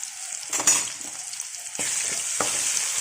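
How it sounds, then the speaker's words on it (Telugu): Ginger garlic paste sizzling in a pan for toor dal curry, a close, bright hiss that flares as the paste is stirred, with a few scraping strokes and a louder burst of sizzle partway through. "ఇప్పుడు అల్లం వెల్లుల్లి పేస్ట్ వేస్తున్నాం"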